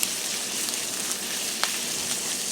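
Sausage sizzles in a pan, a dense, even hiss filling the space up close, with a couple of faint ticks and pops rising briefly above it.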